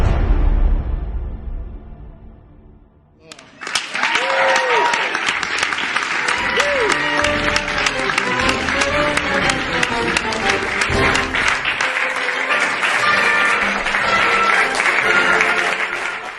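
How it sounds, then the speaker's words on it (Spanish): Loud, sustained applause and cheering from a large crowd as President Biden signs a law, rising suddenly after a quieter opening and continuing densely, with voices mixed into the roar. "Aplauden a Biden por firmar la ley."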